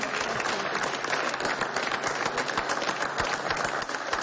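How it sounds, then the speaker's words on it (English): An audience at Fresno City Hall applauds six teenage young entrepreneurs from the Fresno Chamber of Commerce program, giving a dense, steady burst of many hands clapping at once that holds at even loudness throughout. "President General Manager Matt Rosenfeld led a round of applause for the group of six young entrepreneurs"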